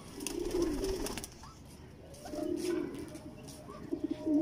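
An old teddy pigeon about twelve years old coos in low, throaty bursts, two or three rolling phrases close by with short pauses between them.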